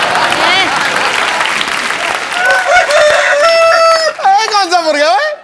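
A man on a televised comedy stage show imitates a rooster crowing with his voice, a loud, wavering cock-a-doodle-doo near the end, following applause and crowd noise from the studio audience.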